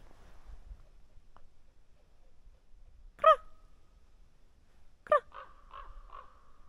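A crow caws around an old house in Sweden: two separate caws a couple of seconds apart, the second trailing into shorter calls, fairly distant against a quiet background.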